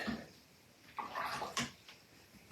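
A watercolor paintbrush swished and rinsed in a water container, faint and close, with a few brief splashy stirs of the bristles in the water.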